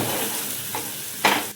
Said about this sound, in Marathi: याच्यामध्ये कांदा खोबऱ्याचं वाटण पण टाकलेलं आहे, हे परतून घेऊ